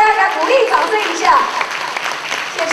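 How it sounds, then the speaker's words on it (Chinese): An audience claps for a 20-year-old performer at a Hakka opera troupe's stage show. The applause is a dense, steady patter of many hands that holds fairly loud for about three seconds. "我们大家给他鼓励掌声一下"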